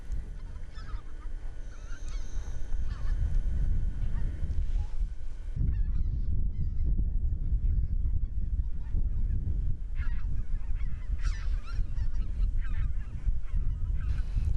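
A large flock of wintering migratory geese in the Cheorwon plain fields of the Korean DMZ honks continuously, with many overlapping calls, some near and some distant, and no speech.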